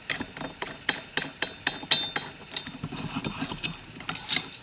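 Metal parts of a homemade digging tool being threaded together as a threaded ferrule is screwed onto the handle with a washer, giving a steady run of close, light ratcheting clicks and metallic clinks.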